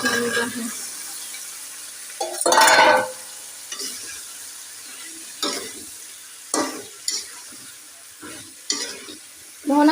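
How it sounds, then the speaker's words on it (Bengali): Cut potato and eggplant are dropped into a hot, sizzling spice masala in a pan, setting off loud bursts of frying, then stirring scrapes and quieter crackling between further sizzles. "আলু বেগুন কেটে দিয়ে রেখেছি এখন দিয়ে দিচ্ছি"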